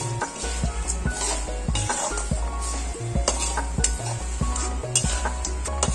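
Dal powder masala roasting in a pan for Belgaum-style bhadang, with steady scraping and stirring strokes of a spoon against the metal pan and a faint sizzle throughout, close and continuous.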